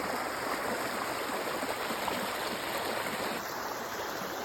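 A river flows steadily in a close, continuous broadband rush, swollen after overnight rain, with no voices over it.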